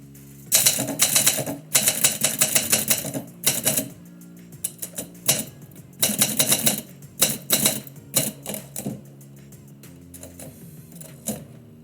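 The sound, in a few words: typewriter typing live poetry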